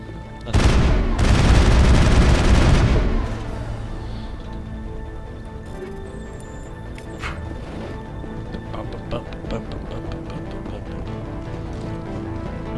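A loud burst of rapid gunfire in the Mass Effect game on Noveria, lasting a few seconds, then fading into quieter background game sounds and scattered impacts.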